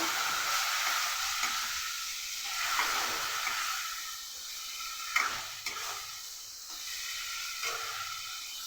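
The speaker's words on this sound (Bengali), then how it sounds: "এক চা চামচের মতো জিরে গুঁড়ো এটা দিতেই হবে মাস্ট আর হাফ চা চামচের মতো ধনে গুঁড়ো এটাও দেব সাথে অল্প একটু জল দিয়ে ভালো করে কষিয়ে নেব" Cumin and coriander powder fry with a splash of water in a pan, giving a continuous hissing sizzle with occasional soft stirring scrapes, close and steady, no voices.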